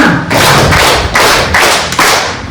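Loud, close claps from children in a classroom clapping game land in a quick rhythmic run of separate bursts that fill the moment with no talk.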